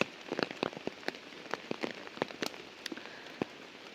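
Rain falls on a surface, with scattered raindrops tapping irregularly and clearly up close, alone with no voices.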